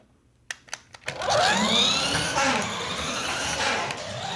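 A Tyco Bandit RC truck's electric motor runs in high gear indoors, starting after a few clicks and rising into a steady, whirring whine that holds with slight wavering to the end.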